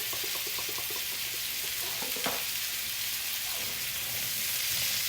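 Potatoes fry in a pan seasoned with black pepper, giving a steady broadband sizzle throughout. Light clinks and scraping sounds of stirring come through near the start and midway.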